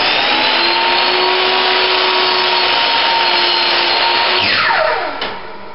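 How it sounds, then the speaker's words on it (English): A power saw cuts about two inches off a shelf held on roller supports, making a loud, steady whine that holds for several seconds and then tapers off as the cut finishes. "We've got to cut off about 2 inches off this shelf."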